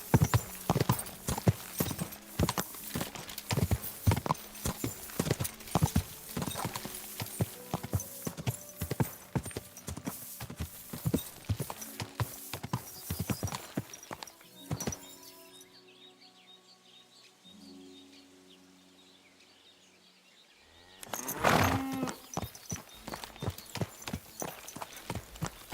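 Rapid horse hooves clip-clop over about fifteen seconds, dense and prominent, then drop to a quiet lull before a loud burst of hoofbeats returns near the end; faint bird calls sit in the background.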